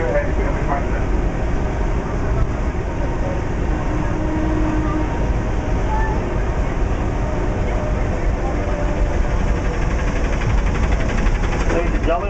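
Constant low rumble of the Disneyland Mickey and Friends tram rolling along, loud and steady throughout with a faint hum.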